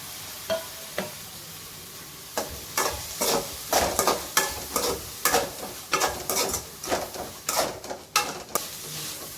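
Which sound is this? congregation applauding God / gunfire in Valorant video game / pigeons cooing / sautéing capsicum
sautéing capsicum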